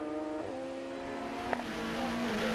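Racing cars passing at speed on the Donington Park circuit, a steady engine drone with shifting pitch as the cars go by, heard without talk.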